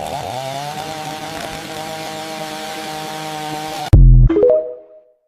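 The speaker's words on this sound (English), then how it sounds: "This next one is a chainsaw." A chainsaw runs at a steady, loud idle-to-rev drone, then abruptly cuts off with a sharp clunk and a brief rattling wind-down into silence.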